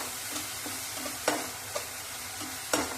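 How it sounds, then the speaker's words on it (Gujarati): Garlic and ginger paste sautés in a pan, giving a steady sizzle broken by several sharp scrapes and clicks of a spoon stirring against the metal. "લસણ ને આદુની પેસ્ટ છે નાખવાનું છે અંદર. તેને સાંતળી લેવાનું છે."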